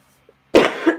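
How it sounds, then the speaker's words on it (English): A single sharp, painful-sounding cough from a person with a tickly throat and postnasal drip, loud and close, preceded by near silence and ending with the start of a second cough. "the cough hurts the chest still"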